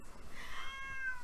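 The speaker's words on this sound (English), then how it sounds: "That's my cat." A cat gives one drawn-out meow nearby, clear and fairly quiet, with no other sounds around it.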